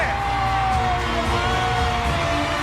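Crowd at a Thai boxing event cheering, whooping and yelling after the fight result is announced, a dense continuous roar with loud shouts rising above it.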